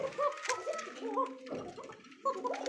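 Pigeons at a market stall coo steadily in soft, rolling, repeated calls, near and continuous, with faint background murmur of people.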